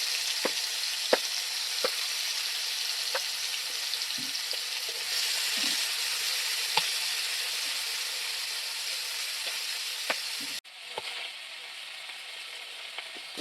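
Prawns and pumpkin greens fry in oil with a steady, loud sizzle and occasional clinks and scrapes of stirring, the hiss dropping suddenly near the end.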